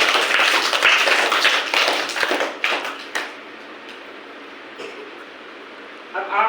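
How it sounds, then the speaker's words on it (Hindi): Schoolchildren clap in a classroom for a few seconds, a loud, ragged burst of many hands that thins into scattered claps and fades into room quiet. "ताली दो इसके लिए।"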